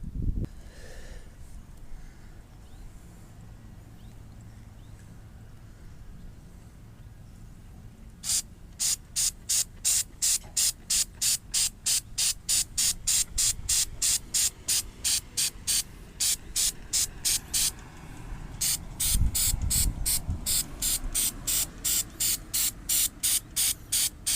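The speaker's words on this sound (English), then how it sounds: "I'm going to spray the Flex Seal all around here." An aerosol can of Flex Seal sprays in a long run of short, sharp hissing bursts, evenly spaced, after a quiet start with faint background rumble.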